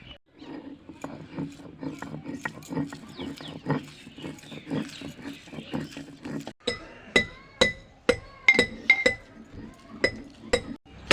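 Soaked urad dal is ground by hand on a stone slab with a grinding stone, making rhythmic rubbing strokes that give way to a run of sharp, hard clacks and taps near the end, with no talking.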